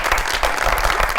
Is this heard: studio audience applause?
yes